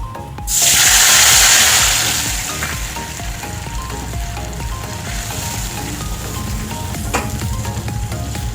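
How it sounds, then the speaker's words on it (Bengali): Mustard paste thinned with water hits hot oil with nigella seeds in a pan for a sour-spicy fish curry, bursting into a loud sizzle that settles into a steady frying hiss with faint stirring scrapes, no talk. "এবার দিয়ে দেবো এখানে সর্ষে বাটা।"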